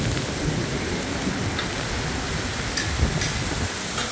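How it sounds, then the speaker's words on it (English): An intense summer thunderstorm in downtown Montreal, with steady heavy rain hissing loudly on surfaces and low rumbling thunder underneath, continuous and close with no voices. "it's been a while since we had a storm like this in the downtown core"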